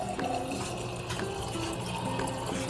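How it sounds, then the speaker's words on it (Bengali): Water from a tap filling a glass, a steady close pour with a slight rising gurgle, heard alone. "এই জল ভরে খেতে হবে"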